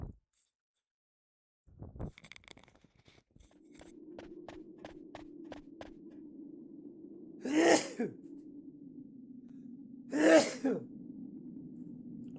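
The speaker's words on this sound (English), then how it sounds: "I'm gonna sneeze" Two loud, close sneezes a few seconds apart, preceded by short sharp breaths and clicks over a low steady hum.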